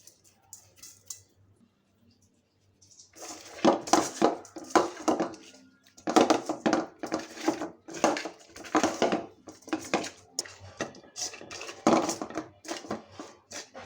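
Fish pieces being rubbed with salt and turmeric in a bowl, giving repeated close clattering, squelching handling noises in bursts after a quiet start.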